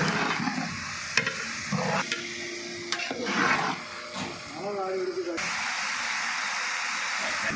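Finely chopped onions fry in a pan along with green chillies and salt while being stirred, giving a steady sizzle with scraping spoon strokes over it as a person talks.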